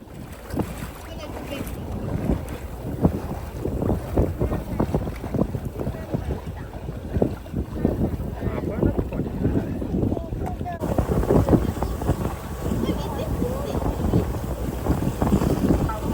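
Small boat crossing the sea near St Michael's Mount in Cornwall at high tide, with continuous engine and water rush buffeted by heavy wind noise on the microphone, steady and close throughout.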